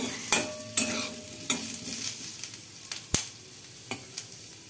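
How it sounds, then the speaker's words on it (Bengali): Potato pieces fry in oil with cumin seeds, sizzling softly while a spoon stirs them with sharp scraping clacks against the pan every second or so; no one speaks. "প্রথমে তেল দিয়েছি, তারপরে জিরা ফোড়ন দিয়েছি, দিয়ে তারপরে আলুগুলোকে একটু ভেজে নিচ্ছি।"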